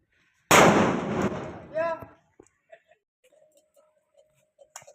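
A single loud, sharp firecracker blast bursts out near the start, followed by a trailing crackle and scattered faint pops in near silence.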